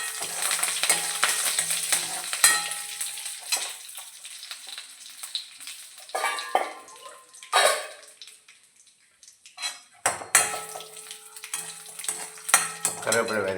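Curry leaves, red chillies and mustard seeds sizzle and crackle in hot oil in a pan for an Indian dish. A spoon clinks and scrapes as the tempering is stirred, with a brief louder stir-and-rattle break partway through.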